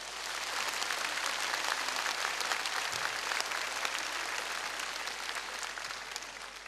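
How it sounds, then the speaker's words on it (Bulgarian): Steady applause from a large concert audience, sustained and even throughout with no talking over it. "Моля аплодисменти за всички изпълнители тази вечер."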